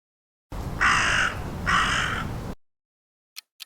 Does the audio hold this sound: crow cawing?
yes